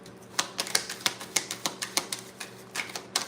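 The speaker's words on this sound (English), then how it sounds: "Let me shuffle really quick." Tarot cards being shuffled by hand, heard as a quick, uneven run of crisp close-up taps and flicks with no voices.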